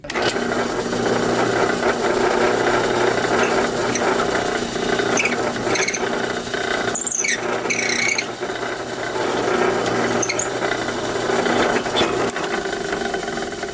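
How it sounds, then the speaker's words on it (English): Continuous mechanical whirring and grinding of a drill press drilling a hole for a surfcasting lure, running steadily, with a brief squealing bite partway through and no talking. "Let's head over to the drill press."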